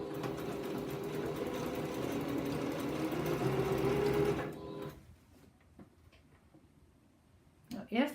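A sewing machine steadily stitches quilt pieces together, its running hum continuous and close for about four seconds before stopping, leaving near silence with a faint handling sound at the end.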